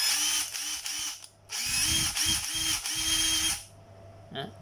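Japanese cordless battery drill, a Makita TD131 on a 1.2 motor with a new 4A battery pack, whirring in several short bursts and then a longer steady run. The motor note rises at each start, loud and close, and no voice is heard.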